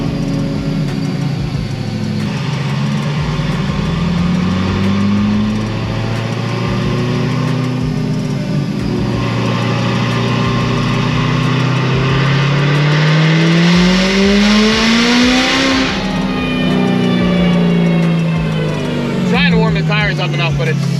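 A car with a supercharged LT4 engine and smaller pulley revs hard through rising and falling sweeps, tires spinning, loud and close, with a person talking over the roar.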